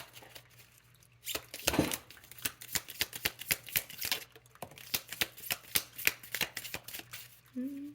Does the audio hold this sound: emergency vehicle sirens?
no